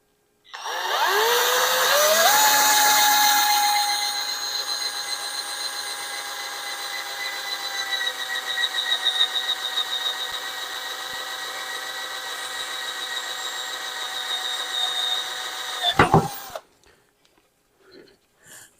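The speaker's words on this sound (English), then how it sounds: "I can drill these pilot holes out here, you know. So let's see. I'm going to use the same 3/8 drill bit there." A power drill with a 3/8 drill bit bores pilot holes while a 3-inch swivel vise is mounted on a Yukon workbench: a loud, steady whine ramps up in pitch, holds for about fifteen seconds, then cuts off abruptly, followed by a few faint clicks.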